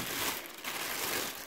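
A plastic bag crinkles steadily and quietly at close range as a collectible figure is taken out of it.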